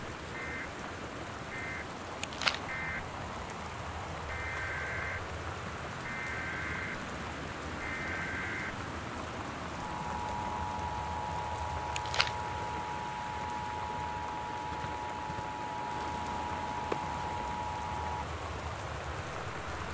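Steady torrential rain hisses continuously in the Gone Home PC exploration game, with a few sharp clicks and intermittent electronic beeps and tones over the constant downpour.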